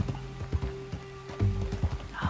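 Horse hooves gallop in the video game Red Dead Redemption 2, with a steady rhythmic clip-clop of hoofbeats that is close and even in level from start to end.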